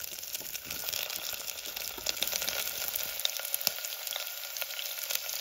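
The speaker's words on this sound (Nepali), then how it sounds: "प्याज यतिको फ्राई भइसकेपछि त्यसमाथि काटेको आलु राख्नु होला।" Cut potatoes fry over onions in a hot pan. They give off a constant bright sizzle with occasional soft clicks of stirring. The sound is close and steady, with no talk.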